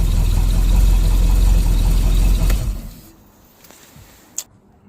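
A motor on a used boat runs loud and steady with a low rumbling drone for a few seconds, then cuts off abruptly, leaving near silence broken by a brief click.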